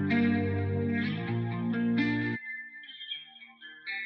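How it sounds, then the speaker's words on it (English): Electric guitar tone processed with the Soothe resonance-suppression plugin, a dense chorused, effects-laden chord ringing loudly for about two seconds, then thinning to a quieter, airy high-pitched tail. "For guitar tones like this, I like to throw soothe on there"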